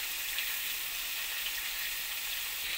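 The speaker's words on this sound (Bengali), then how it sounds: "এখানে আমি আলুটাকে ভেজে নিচ্ছি।" Potatoes fry in oil in a wok, giving a steady, even hiss of sizzling throughout, fairly quiet and unbroken.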